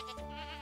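A goat in the Stardew Valley video game gives a single short, nasal bleat close up, with a faint game soundscape behind it.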